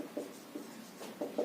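Pen or chalk writing out the solution to a maths equation, a few soft scratchy strokes in a quiet room, faint and intermittent.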